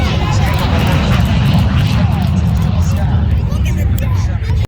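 A MiG-17 jet fighter roars past at a regional airport airshow, a loud, continuous, rumbling jet engine noise filling the whole stretch with faint crowd murmur beneath it.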